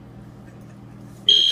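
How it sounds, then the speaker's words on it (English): A single high, piercing electronic smoke alarm beep cuts in abruptly at the end after a stretch of low, quiet background hum, with no smoke present. "Did you set off the smoke alarm?"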